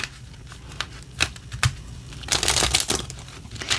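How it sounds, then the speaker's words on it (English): Tarot cards being shuffled by hand up close: scattered light riffles and taps, then a denser burst of rapid papery flicking and crinkling, fairly loud against a quiet room with no talking. "Another shuffle they requested."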